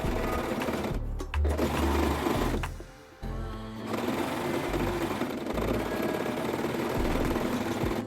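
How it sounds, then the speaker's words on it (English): Sewing machine or overlocker stitching seams on a kimono jacket, whirring in steady bursts with a brief pause partway through. "Finish the seams with an overlocker or a zigzag stitch."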